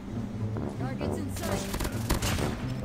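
MAC-10 SMG firing in Call of Duty Mobile, quick bursts of rapid automatic gunfire over steady game sound, with a voice talking across it.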